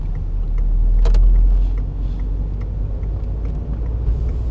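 Inside a 2002 Citroën Xsara 1.6 16V while it drives at low engine revs, a steady low rumble of engine and road noise with faint clicks and rattles, even and unobtrusive throughout.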